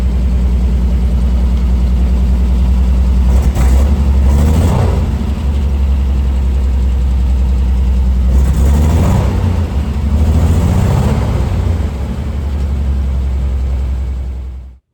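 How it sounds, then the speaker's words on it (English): A 1951 Dodge M37 3/4-ton military army truck engine runs steadily at idle, with two or three short revs rising and falling over the low rumble, close and loud without voices. "here is a quick clip of it running with a few little revs of the engine"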